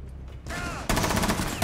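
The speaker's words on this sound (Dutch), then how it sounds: "Ze schoten elkaar neer." Rapid gunfire in the tactical shooter video game Rainbow Six Siege, a dense burst of close shots that grows louder partway through.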